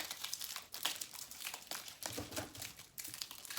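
Tarot cards are shuffled up close in quick repeated crisp riffling bursts with short pauses between them, and no voice over them.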